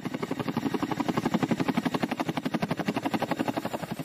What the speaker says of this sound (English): The CH-47 Chinook helicopter is also another aircraft that has put skis to good use over the years.